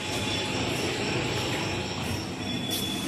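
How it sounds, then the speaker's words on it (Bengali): Tarakeswar–Arambagh local train rolling into a station, a steady loud rumble of wheels on rails with a squealing high tone running throughout, no voices. "আমাদের ট্রেন এসে পৌঁছালো তারকেশ্বর, তারকেশ্বর আরামবাগ লোকাল।"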